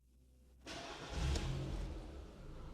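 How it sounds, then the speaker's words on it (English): A car engine starts and settles into a steady idle during an oil change on a 4-speed AG4 automatic transmission, a short crank burst followed by a close, continuous low running hum. "Now start the engine."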